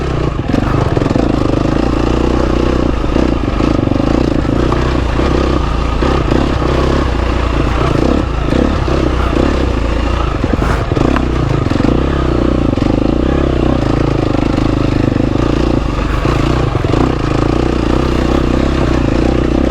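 GasGas EX250F dirt bike engine running steadily while riding, a loud, continuous drone with clattering and scraping over rough ground throughout, close to the rider.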